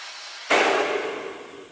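A hair dryer switches on abruptly and blows a loud, steady rush of air close by while drying the roots of hair during a salon-style blowout. The rush eases off slightly over the following second.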